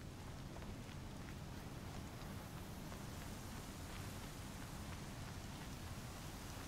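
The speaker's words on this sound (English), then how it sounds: "now it's raining" Rain falls steadily in the video game Horizon Zero Dawn, a faint, continuous hiss of drops with no other sounds standing out.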